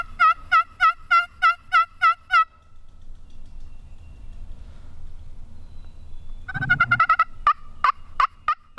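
Wild turkeys gobble during a midday hunt: a loud rapid gobbling burst rings out at first, then after a quiet stretch another close round of gobbles and sharp calls follows.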